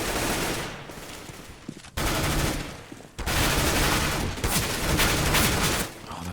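P90 and AK-47 trading fire in a Counter-Strike match at a tournament qualifier final, loud sustained automatic bursts with sharp cutoffs between volleys, alone without commentary.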